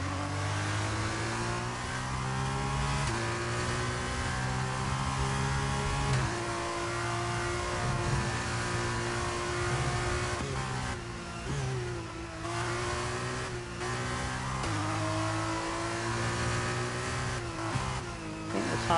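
A Formula 2 race car from the F1 23 video game revs steadily and loudly on track, its engine note climbing and dropping through gear changes for about nineteen seconds with no talk.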